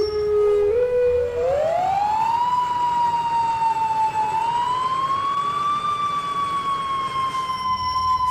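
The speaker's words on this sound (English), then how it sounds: "you often hear American trucks with the manual siren" An American fire truck's manual mechanical siren in a video game winds up from a low growl to a loud, sustained wail that holds steady and rises slightly, continuous and close throughout.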